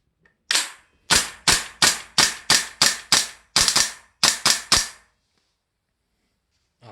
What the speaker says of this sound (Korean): 방금 보셨듯이 이제 단발로 쏘고 있는데 연발로 약간 나갔죠.